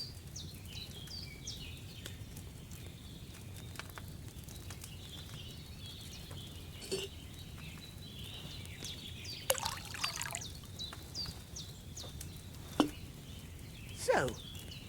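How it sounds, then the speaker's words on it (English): In the Kingdom Come: Deliverance 2 game, wine trickles and pours into a cauldron in a quiet indoor setting, with birds chirping in the background and a few clinks and knocks between the pours. "First, you have to pour the right base into the cauldron."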